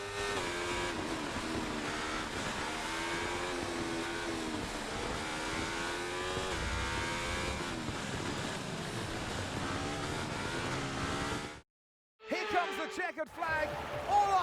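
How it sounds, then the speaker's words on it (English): Race car engine in the F1 24 video game at the Singapore Grand Prix finish, a sustained high whining drone with shifting pitch over most of the clip, then a brief silence and a final burst, under commentary. "Checkered flag, all eyes on the car approaching."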